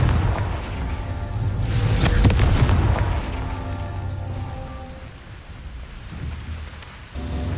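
Confringo fire-blast spell explosion in the video game Hogwarts Legacy: a loud booming burst peaking early, followed by a long rumbling, crackling decay layered with lingering game ambience.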